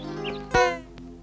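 A single short meow from a cat, close and clear, with a faint background hum.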